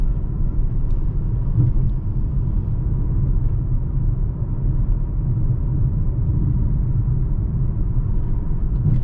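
A 2021 Mercedes-AMG GLA 35 compact SUV on a night drive, heard from inside the cabin as a steady low engine and road rumble, constant and unbroken throughout.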